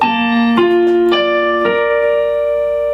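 A piano plays a short passage from a song: four struck chords in a slow, uneven rhythm, the last left ringing, close and clear with no talking.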